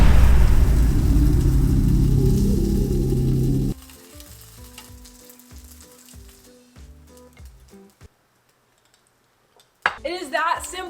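Vegan bacon frying in coconut oil gives a loud, close sizzle that cuts off after a few seconds, followed by quieter clicks, a brief silence and a short burst of voice at the end.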